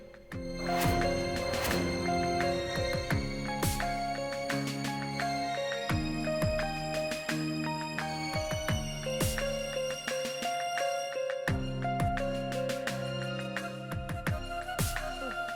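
A melodic electronic ringtone plays loud and continuous, a repeating tune of bright tones with no talking.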